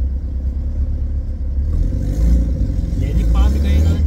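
Turbocharged Honda Civic accelerating, a steady low engine rumble building in intensity, heard from inside or near the car with people talking over it.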